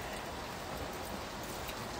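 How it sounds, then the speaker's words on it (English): Light rain falling steadily, an even, faint hiss of drops with no breaks and no talking. "it's raining"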